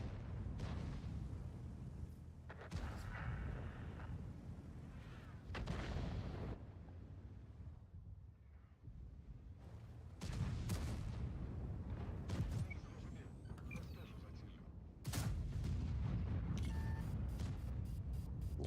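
Heavy tank cannon blasts from a WZ-113G FT in a video game boom repeatedly, each a sharp broadband burst with a rumbling tail, spaced a few seconds apart over steady low background noise.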